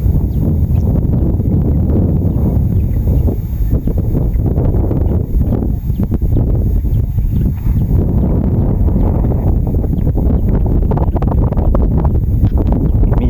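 Wind blowing over an open rice field, a loud, constant buffeting roar across the microphone that lasts throughout with no pauses and no voices.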